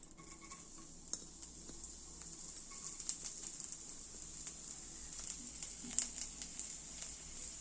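Chopped garlic dropped into hot oil for Lung Fung soup, giving a faint, steady sizzle with a few light clinks from stirring.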